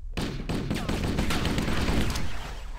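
Sustained enemy gunfire in the Halo campaign mission The Silent Cartographer on Legendary: a dense, continuous rattle of automatic shots that runs almost the whole time at steady loudness, with no talk over it.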